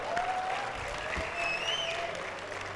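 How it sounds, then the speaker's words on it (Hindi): An audience at an annual awards ceremony claps for the workers, a steady wash of crowd applause held at even strength, with faint whistle-like tones and a brief low thump mixed in. "तमाम वर्कर्स के लिए तालियां."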